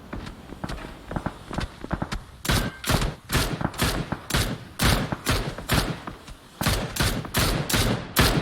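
Rapid bursts of gunfire in a battle royale game, shots fired through trees in quick uneven volleys, loud and sharp, with footstep thuds between them and almost no talk.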